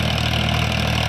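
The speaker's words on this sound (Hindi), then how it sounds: "और दोस्तों ट्रैक्टर ये फार्म ट्रैक 45 है" A Farmtrac 45 tractor with a rotavator runs nearby, its engine giving a steady, loud, low idling drone with an even throb for about a second and no voices.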